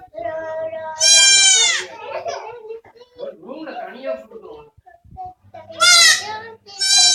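A little lamb bleats loudly and nearby in two wavering cries with a gap between them. People talk and sing softly during the gap.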